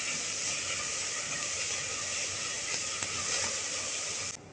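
Onions and whole spices sizzle steadily in a hot pan while being stirred, a constant loud frying hiss with occasional faint scrapes and no talking.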